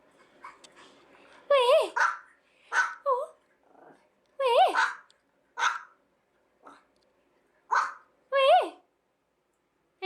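A pet dog barks, growls and whimpers in short bursts with gaps between them, close by, while a voice speaks to it in between.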